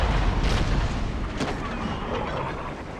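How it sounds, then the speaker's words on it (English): Stern chaser cannons on a sailing ship in Empire: Total War's naval battle, heavy booming blasts rolling over a dense roar of battle noise, with a voice talking faintly beneath. "Maybe we can fire our stern chasers at her."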